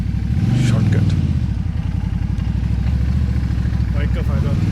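A motorcycle riding through jammed traffic near an industrial port area in Wuhan, its engine putting out a loud, close, steady throb with rising revs, while someone talks over it.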